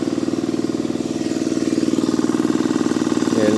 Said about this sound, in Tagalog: Ay, isang makina lang na lang umaandar.